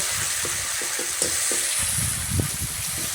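Ginger garlic paste sizzles in hot oil in a pan over a wood-fired stove, a steady bright frying hiss with soft scrapes and stirring taps scattered across it.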